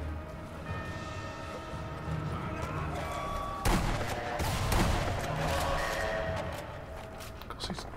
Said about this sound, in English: Pounding with that gun.